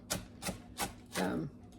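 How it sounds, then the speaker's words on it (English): A chef's knife rocking on a cutting board, point kept down while the blade chops, giving four close, distinct knocks spaced evenly, the last stroke drawn out longer; no one speaks. "having the point down in one place and then just rocking back and forth to do an easy chop"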